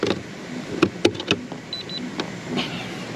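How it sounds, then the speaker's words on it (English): Electric rear brake calipers driven by a scan tool give out a few sharp mechanical clicks and short whirring bursts, followed by brief electronic beeps, close and fairly quiet. "we're going to bring those rear calipers in"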